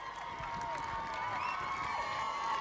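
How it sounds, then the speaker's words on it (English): A crowd at a 1986 North Tipperary intermediate hurling final reacts to a score, a distant roar and scattered cheering under a faint steady tone, sustained for a few seconds. "the reaction of the crowd tell the tale as the scoreline reads"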